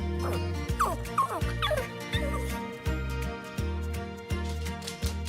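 A young abandoned puppy whimpers and yips repeatedly in high, wavering cries close by, over a steady low repeating background tone.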